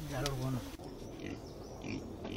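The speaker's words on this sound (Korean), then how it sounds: "돼지입니다." Pigs in a Dani tribe village grunt in short low bursts close by, with a voice talking over them at the start and a busy outdoor background throughout.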